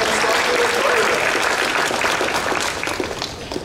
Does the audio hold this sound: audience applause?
yes